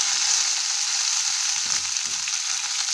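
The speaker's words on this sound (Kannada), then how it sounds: "ಹಾಕ್ಕೊಂಡು ಈ ಥರ ಚೆನ್ನಾಗಿ ಒಂದ್ಸರಿ ನೀವು ಫ್ರೈನ ಮಾಡ್ಕೋಬೇಕಾಗುತ್ತೆ" Chopped onion, tomato and green chillies fry in a hot pan, giving a dense, even sizzle that stays loud and close throughout, with a couple of faint stirring touches and no speech.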